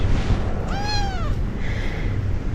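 Small kitten giving one clear, high rising-and-falling meow close by, followed by a fainter squeak, over steady background noise.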